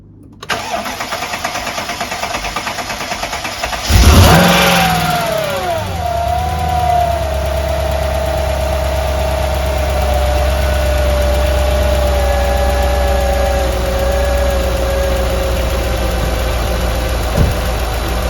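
A Mercedes CLK55 AMG cranks and fires after its fuel injectors were replaced, rising to a loud rev that falls to a steady, slightly uneven idle for a long stretch, close by with no talking.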